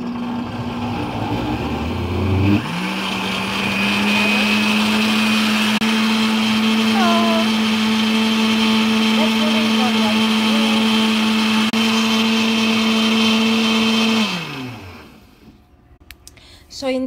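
A blender whirs up and runs a smoothie with kawa juice in a steady, loud, high whine for about twelve seconds, then spins down and stops.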